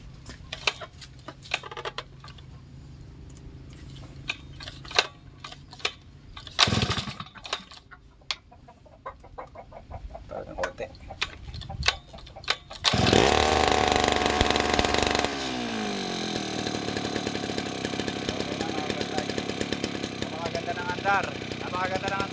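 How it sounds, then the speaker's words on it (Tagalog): Grass cutter engine at a fish pond: sharp intermittent knocks and clatter with a voice talking, then the small engine starts and runs loud and steady, buzzing continuously at close range. "Napakaganda ng andar ng ating makina ngayon"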